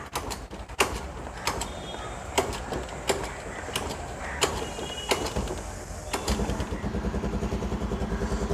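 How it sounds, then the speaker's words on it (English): A 14-year-old Honda Activa scooter engine is kick-started, turning over with sharp mechanical clicks and knocks, then settles into a steady, rapid idle chugging close by. "So now let's just start up the Activa. Hear some engine sound and stuff."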